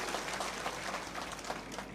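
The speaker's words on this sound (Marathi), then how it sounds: "आपण सर्वांनी टाळ्या वाजून या ठिकाणी स्वागत केलं पाहिजे" An audience at a political party gathering claps together to welcome a new party member, a dense, steady wash of applause that holds at an even level for the whole stretch.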